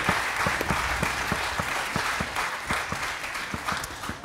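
An audience at an ocean innovation round table conference claps together, a close, lively burst of many hands that holds steady for a few seconds.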